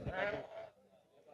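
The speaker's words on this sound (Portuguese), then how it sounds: "Tá aqui uma garrotada, uma carneirada boa. Tem uns bodes no meio também." A mixed flock of sheep and goats bleats at a livestock market in Cachoeirinha, Pernambuco, with overlapping animal calls close by and a voice speaking over the noise.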